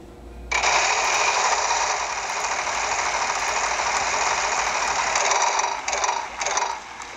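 A game show prize wheel spins as a loud, rapid clicking ratchet that runs steadily for several seconds and then slows into a few scattered final clicks.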